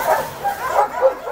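An abandoned puppy found in a pine wood, giving a run of high thin yips and whimpers, close and fairly loud, with no talk over it.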